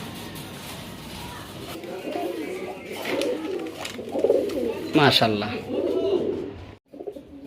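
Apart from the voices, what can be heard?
black fillback fancy pigeons cooing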